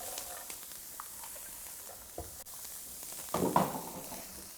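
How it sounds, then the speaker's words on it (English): Chopped celery and carrots cook in a pan with a low, steady sizzle, a soft stir or two, and a brief louder crackle near the end, fairly quiet and close. "We're going to throw in some celery and some carrots."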